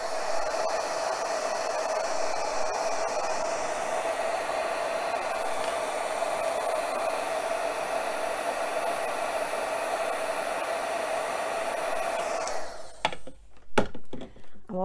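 A heat tool blows a steady, loud, even whoosh for about twelve seconds while warming a papercraft butterfly, then cuts off, leaving a few light handling clicks and rustles.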